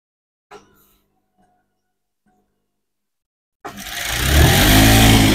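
An interlock sewing machine stitching a petticoat, preceded by a few faint handling knocks, then the motor kicks in abruptly and runs up to a loud, steady high-speed whir close by.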